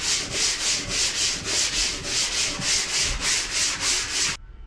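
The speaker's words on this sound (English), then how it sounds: "just spent the last hour and a half hand sanding out this pan." A catamaran head pan is sanded by hand in steady, rhythmic back-and-forth strokes, about three per second, close and loud, before stopping abruptly.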